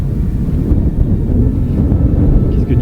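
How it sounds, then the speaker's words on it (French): Strong gusts of wind sweep over a wheat field in open country, a loud rumbling buffet that roars steadily against the microphone for the whole moment. "Je suis en train de prendre les coups de vent dans le blé."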